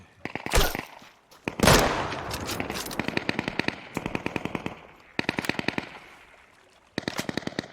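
Automatic rifle fire in the survival shooter game Deadside rattles out in rapid bursts, with a couple of loud single shots first and then repeated close volleys, while players talk intermittently.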